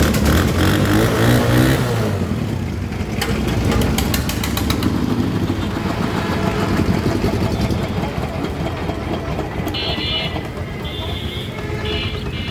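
A second-hand Honda CD 80 motorcycle engine runs at a quiet, steady idle, a low continuous hum heard under someone talking nearby.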